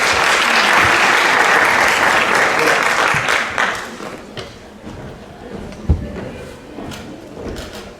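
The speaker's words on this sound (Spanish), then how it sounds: "Vamos a recibirle con un fuerte aplauso al doctor Sergio Tindera." A conference audience at a social work congress gives a speaker a welcoming applause, loud and dense clapping that fades after about four seconds, followed by scattered bumps and room noise.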